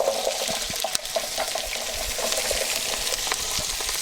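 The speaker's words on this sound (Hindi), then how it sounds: "कटा हुआ प्याज भी डालेंगे।" Chopped onion frying in pure ghee with whole raw spices for an Indian bagara chicken curry, a steady close sizzle and crackle running throughout with no voices.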